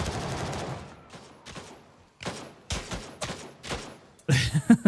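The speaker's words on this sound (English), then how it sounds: "he's shooting me from down low" Gunfire in Gray Zone Warfare, a handful of separate shot bursts spaced apart, followed by a denser, louder cluster of rapid shots at the end.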